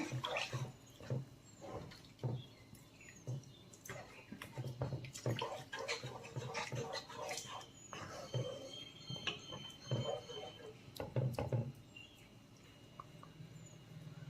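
Water is poured into a bowl and stirred in to make pineapple semolina kesari, with soft intermittent splashing and swishing, quiet and close.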